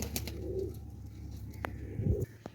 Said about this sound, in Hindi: और करीब आ गया ये कबूतर।